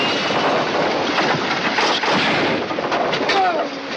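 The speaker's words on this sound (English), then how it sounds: "What are you shooting at?" Gunfire in a western film battle, a dense, continuous roar of shots and booming blasts filling the scene at high volume, with shouting voices mixed underneath.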